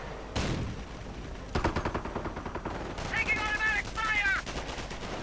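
MG42 machine gun fire in a World War II strategy video game battle, with sharp bursts of rapid automatic shots and distant crackling gunfire over a steady battle din, alongside a few high whistling effects.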